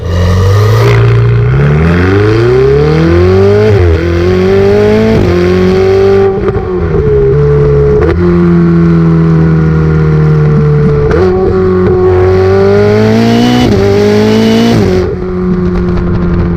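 A Ferrari 488 Spider's exhaust during a test drive, loud and close, rising and falling in pitch through repeated revving accelerations and gear changes, with no talk over it.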